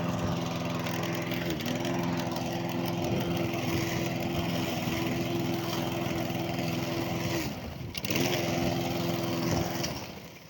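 A Stihl lawn mower runs continuously and loudly up close with a steady engine drone, briefly dipping near the end before revving back up.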